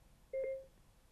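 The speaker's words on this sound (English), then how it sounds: "press the function and phone buttons together and wait for the beep" A single short electronic tone from a FREECOM 1 voice assistant activation, clean and moderately loud, over faint background hiss.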